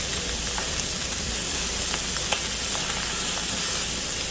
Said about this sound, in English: So I'm going to finish browning the sausage.